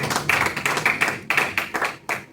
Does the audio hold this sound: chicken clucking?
no